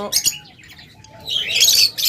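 Caged pet lovebirds and budgerigars give sharp chirps and squawks, a quick pair at the start and then a busy cluster of calls toward the end. The birds are close and no one speaks.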